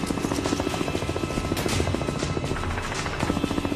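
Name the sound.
military helicopters taking off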